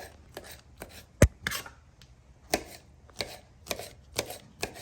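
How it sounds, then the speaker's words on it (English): A knife chopping tomatoes on a cutting board for guacamole, a series of close, crisp, irregular thuds and taps. "we're cutting up some tomatoes"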